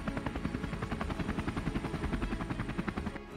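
A helicopter recovering a rocket payload, its rotor thumping in a fast even pulse, steady and fairly loud throughout with no talking.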